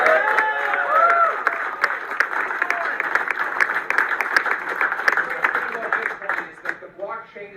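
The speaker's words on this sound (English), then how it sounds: "yes, you can applaud that if you want" An audience claps and cheers during a political speech on Bitcoin and crypto, a steady wave of applause with some voices mixed in, tapering at the end as a speaker begins to talk.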